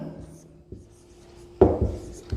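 Chalk or marker writing on a classroom board, a few scraping strokes, the last ones sharper and louder, close by with a low hum underneath.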